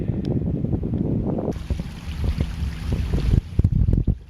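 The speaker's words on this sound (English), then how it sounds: "it's getting quite windy right now" Wind gusts buffet the microphone in the hills at higher elevation, a loud close rumbling roar with a steadier rushing stretch in the middle.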